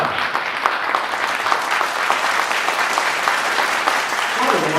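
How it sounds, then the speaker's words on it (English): An audience at the 2018 MIWAFF awards opening breaks into loud, sustained applause, a dense wash of clapping that carries on throughout, with a voice faintly present. "Give a round of applause."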